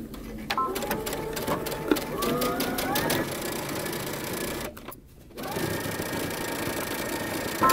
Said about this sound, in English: you're going to back stitch and then sew all the way up